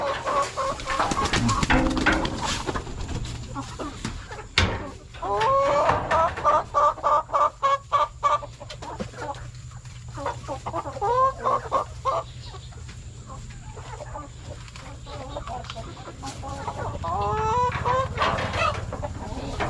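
Several chickens cluck and squawk nearby in uneven bursts, with a brief rapid run of clucks and occasional louder calls.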